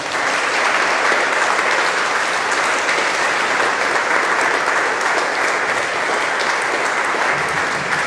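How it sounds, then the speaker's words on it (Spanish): Loud, sustained applause fills a religious talk session, a dense unbroken wash of many hands clapping for about eight seconds with no speech. "Vamos a darle un fuerte aplauso a Jesucristo."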